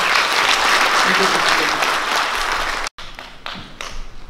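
A big round of applause at a Korean book event honoring a political columnist, a dense, loud crowd clapping for about three seconds before cutting off, followed by scattered claps and a brief spoken word.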